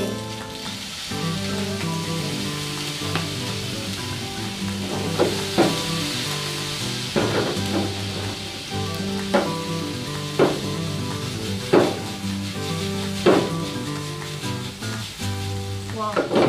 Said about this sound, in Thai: ผัดไปกระเทียมนี้